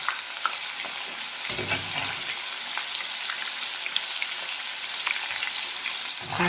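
Chickpeas frying in a pan for chana manchurian, a steady close sizzle with occasional scraping knocks as they are stirred.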